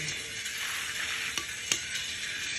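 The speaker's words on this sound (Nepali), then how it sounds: "मकै भुटेर लगाइछ मकै भुट्दैछु नै हामी यहाँ मकै" Maize kernels roast in a pan, giving a soft steady sizzle and rustle with a couple of sharp clicks or pops near the middle, fairly quiet and close.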